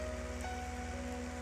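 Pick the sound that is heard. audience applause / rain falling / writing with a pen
rain falling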